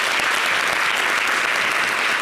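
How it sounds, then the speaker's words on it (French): Dense, steady applause from a studio audience for a stand-up comedian opening a televised comedy special, loud and even throughout with no voices over it. "merci de l'applaudir encore une fois"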